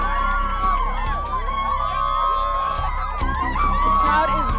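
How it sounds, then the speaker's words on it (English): A big crowd keeps up loud, excited cheering and whooping for an arriving Supreme Chancellor, a steady roar of many voices with scattered sharp shouts. "The crowd is loving him"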